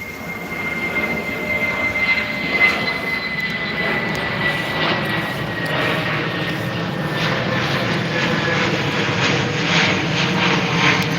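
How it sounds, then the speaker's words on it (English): A yellow propeller airplane passes overhead with a steady, broad engine drone that swells slightly and holds for about eleven seconds, with no talk. "Yellow airplane."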